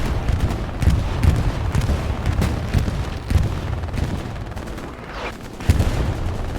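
A bombing run with artillery in Hell Let Loose, heard as a continuous heavy rumble with dense, overlapping booms and blasts throughout and a few louder impacts rising above the roar.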